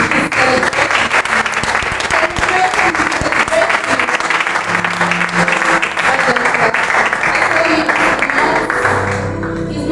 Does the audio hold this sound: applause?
yes